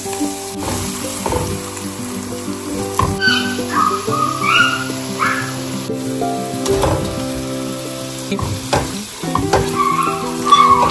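Yogurt and spices hit a pan of frying onion and ginger garlic paste, a steady crackling sizzle with intermittent stirring scrapes, close and continuous throughout.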